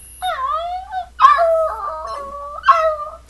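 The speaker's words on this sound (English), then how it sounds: "Who's a bad but freakishly clever space dog?" A dog in a space-themed children's story howls and whimpers in long, wavering, rising and falling cries, close and clear, with three distinct vocal bursts and no talking.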